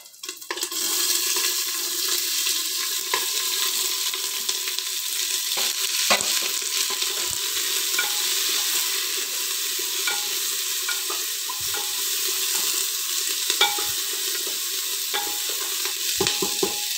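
Onions fry in hot oil with toasted whole spices for jackfruit curry, giving a loud continuous sizzle with scattered stirring scrapes and crackles throughout.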